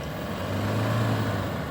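A Toyota Hilux engine labours under steady throttle off-road, a low, loud drone that holds and swells slightly across the brief moment with no voices.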